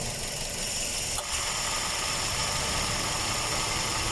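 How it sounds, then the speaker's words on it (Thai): A car engine idles steadily with the air conditioning compressor running, a mid-pitched mechanical whir and faint rattling vibration on top, continuous and fairly close. "เสียงของคอมแอร์"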